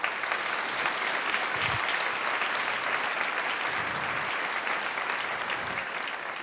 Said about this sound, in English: they deserve some applause for their hard work as well